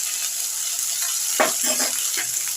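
A soft sizzle of ginger and green chilli paste frying runs underneath while a few scraping stirs break in near the middle, close and fairly quiet.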